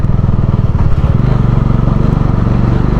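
Motorcycle engines drone loudly and steadily with a throbbing, pulsing rumble as bikes ride close by on a mountain road in Spiti, with no voices over the noise.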